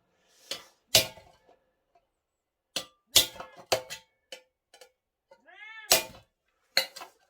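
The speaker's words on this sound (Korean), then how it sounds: "고양이야 너는 왜 그러니?" A cat meows several times in short, separate calls with quiet gaps between them, fairly close and clear. A few faint clinks can be heard, and there is no talking.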